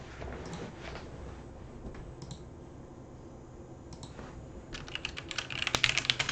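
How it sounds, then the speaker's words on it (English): A password is typed on a computer keyboard to log in to a Windows Server 2016 machine, giving soft, uneven key taps that grow into a quicker, louder burst of clicks near the end. "Put the password in."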